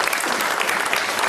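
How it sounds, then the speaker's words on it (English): Audience applause for the Coast Guard at a political event on the oil spill, a dense steady burst of clapping from a crowd, loud and continuous throughout with no pause. "Ladies and gentlemen, y'all need to give the Coast Guard a round of applause."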